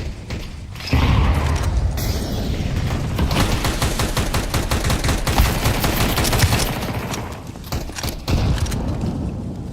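Flashbang and grenade blasts in a shooter game crack and boom amid sustained rapid gunfire, a loud, dense barrage of bursts and rattling shots that continues almost without pause.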